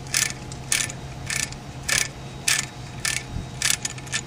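An HVAC king valve stem turned down with a ratcheting tool, giving a steady series of light metallic clicks about every half second, faint and close, with no talking.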